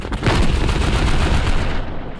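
Rapid chained explosions and gunfire from a chain explosion ability in the video game Ignition Prime, a loud, dense crackling barrage of booms that rolls on steadily for about two seconds before fading.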